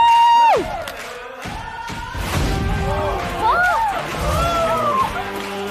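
Studio audience applause and cheering greet interns walking onstage at a Chinese job-offer reality show, a broad crowd roar rising midway and carrying on under bright musical tones and swooping effects.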